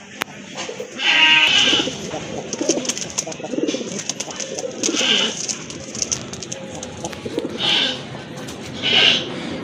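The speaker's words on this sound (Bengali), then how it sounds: "আরেক জোড়া কবুতর দেখতে পাচ্ছেন" Pet pigeons in a fancy breed collection, including a pair of red-marked birds, give several soft cooing and bleating calls in bursts, fairly close, with little other noise between them.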